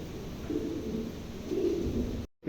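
Large female Lakka pigeons coo in a low, steady murmur that runs continuously, fairly close and moderately loud, before cutting off abruptly near the end.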